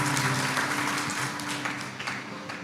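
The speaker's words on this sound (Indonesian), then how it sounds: "beri tepuk tangan yang meriah buat Tuhan" Church congregation applauding together, a steady broadband wash of clapping that holds loud for nearly three seconds before easing off slightly.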